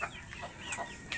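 Chickens among a small flock of Rhode Island and mixed hens around a nest of eggs give soft, low clucks, faint and murmuring under a steady background hum.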